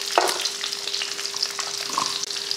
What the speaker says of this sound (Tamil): 1 ஸ்பூன் மல்லி, அடுத்து மிளகு 1 ஸ்பூன், சீரகம் வந்து 1/2 ஸ்பூன் நல்லா வறுத்ததுக்கப்புறமா